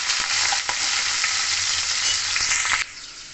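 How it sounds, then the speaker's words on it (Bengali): Pumpkin pieces frying in oil without salt for kumror chokka, with a close, steady sizzle and a few stirring scrapes before it drops off sharply near the end, with no talking. "বিনা লবণেই আমি এটা ভালো করে লাল করে আগে ভেজে নেবো"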